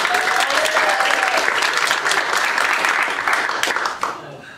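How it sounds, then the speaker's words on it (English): Audience applause for an improv team at a spring comedy show, loud, dense clapping sustained for about four seconds before tapering off quickly at the end. "Now a round of applause for Vegetables with Beards."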